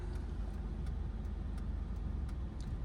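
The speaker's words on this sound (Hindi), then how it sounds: "इंजन के साउंड को सुनना है बस" A car engine hums steadily at low pitch while climbing uphill, a continuous close drone with faint ticking above it and no talking.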